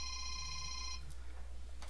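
A Kyocera cell phone rings with a steady electronic tone for about a second, close and fairly quiet over low background hum, then cuts off, leaving faint rustling.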